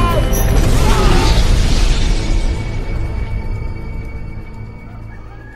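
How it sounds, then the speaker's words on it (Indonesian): A loud, booming explosion with a heavy low rumble and crackling debris that slowly fades over several seconds. "bomnya pun langsung meledak"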